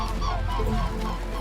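Mute swans on water in Europe give a dense chorus of honking, nasal calls over a continuous low rumble, several birds overlapping without pause.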